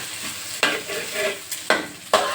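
Eggs frying in a pan for a Thai stir-fried wide rice noodle dish, a steady close sizzle broken by three sharp scraping stirs of a spatula.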